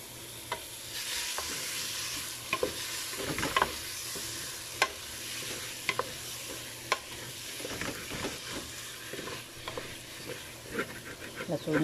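A spoon scrapes and knocks around a cooking pot while chicken is stirred, sharp intermittent clinks over a soft steady sizzle from the pot, fairly close and moderate in level.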